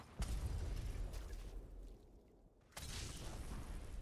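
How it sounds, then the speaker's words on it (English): Explosions in the video game Fallout 76, heavy rumbling booms that are muffled and fairly faint, rolling on for a few seconds with a short lull before another burst. "That's where all those explosions are."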